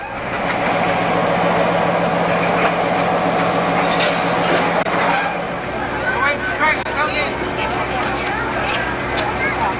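Newfoundland Railway passenger extra 917 West pulling away, a steady loud rumble of train engine and rolling cars with clattering wheels, while voices murmur over the din throughout.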